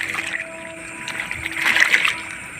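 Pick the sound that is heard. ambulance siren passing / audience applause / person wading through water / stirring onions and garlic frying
person wading through water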